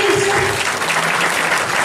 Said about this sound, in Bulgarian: Моля аплодисменти за Кирил Величков